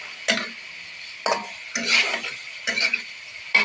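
Fish is tipped into a pan of spices cooking for an eggplant curry and stirred. Five separate bursts of scraping and sizzling come at irregular intervals, with quiet gaps between them.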